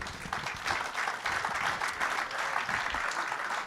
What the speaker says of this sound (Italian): però apprezzerà sicuramente il vostro applauso